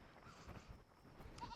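A goat bleats close by among farm animals in a barnyard, a wavering nasal call rising over steady background noise with a short higher squeal near the end.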